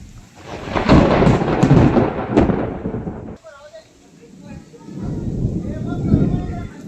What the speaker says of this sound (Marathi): भारी एकदम पावसाला सुरुवात होते बघा